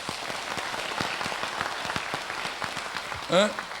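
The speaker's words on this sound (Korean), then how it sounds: "박수로 하나님께 감사해요" A church congregation claps in thanks to God during a sermon, a moderate patter of many hands with soft crowd noise, ending with a brief voice.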